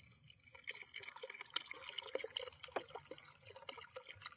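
River water is poured and splashes softly into a pot for village-style fish curry, with faint dripping and trickling close by and no talk.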